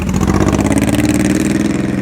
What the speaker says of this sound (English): So it's a Honda VTX1800. Beastly engine.